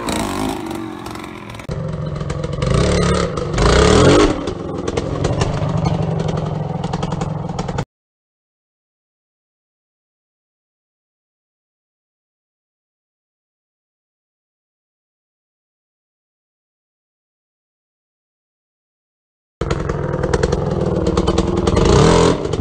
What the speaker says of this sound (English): just before your back tire hits the log, you need to give it a second blip of throttle